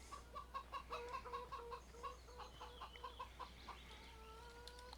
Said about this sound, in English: We've got free ranging chickens.